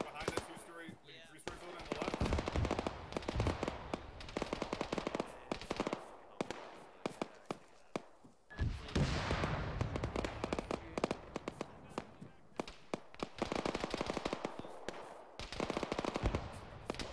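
Near-constant gunfire in the tactical shooter Arma, dense bursts and single shots crackling almost without pause for most of the stretch, loud and close, with a brief lull midway and occasional voices underneath.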